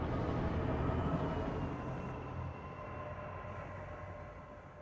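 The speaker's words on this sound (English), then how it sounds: "Train's moving. Better get on it." A train in the video game Apex Legends rumbles and clatters as it rolls along, loud at first and then gradually fading.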